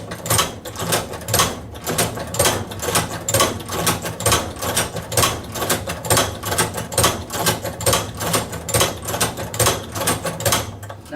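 A hand-operated leather stitching machine runs steadily as its handle is pulled firmly, giving a fast, regular train of close mechanical clacks and thumps throughout, with no talking.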